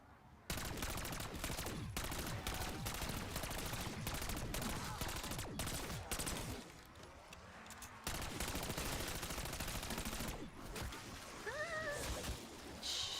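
Gunfire in the Call of Duty Warzone video game plays as dense, rapid automatic bursts and volleys, nearly continuous and loud, with a short lull midway before the shooting resumes.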